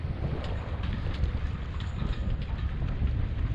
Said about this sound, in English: now I can feel the wind starting to pick up. You can probably hear it on the camera